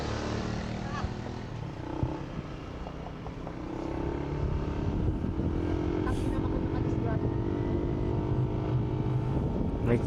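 A motorcycle engine drones steadily while riding behind cyclists in a New Year bicycle road race in Catanauan, a fairly distant hum with some wind rumble that grows slightly louder after a few seconds.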